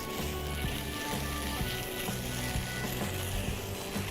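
Chicken pieces coated in spices sizzle steadily in a hot pan for a few minutes, a dense continuous frying crackle with faint low background hum and no talking.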